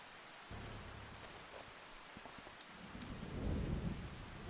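A thunderstorm with steady rain in the video game Farming Simulator. Constant rain hiss is broken by sharp crackles, and a deep roll of thunder swells toward the end, with no voices.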